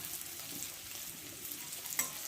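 Spices with cumin powder, chili powder, turmeric and salt fry in a pan for a Bengali data (stem) dish, a faint steady sizzle with soft scraping stirs and one small clink near the end, no talking.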